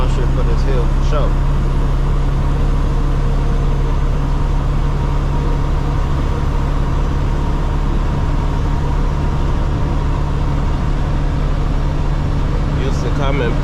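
A loaded dump truck hauling recyclable concrete labors up a hill, its engine a steady low drone and rumble throughout, with someone talking over the noise.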